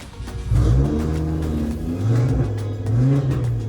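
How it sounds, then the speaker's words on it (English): A car engine revs up in a few rising and falling bursts, loud and close, with a throaty mid-range growl and no talking. "This dad revved his car for his daughter."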